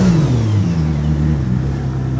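A Koenigsegg Jesko engine revs up from idle, loud and close, a strong rising engine note with clear harmonic bands that climb and settle, no voices present.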